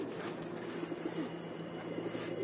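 A white pigeon coos steadily at close range, its low soft calls rolling on without a break over a constant background hiss, with no talk.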